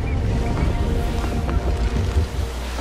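Sailing ship under half sail in Assassin's Creed III, a loud, steady rush of wind and water around the hull with low rumbling and creaks.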